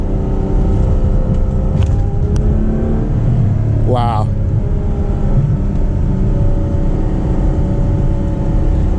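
Ferrari 812 Superfast V12 engine droning steadily in the cabin while accelerating in manual mode, a constant loud engine tone with a brief shift-like sweep midway, and a voice exclaims once.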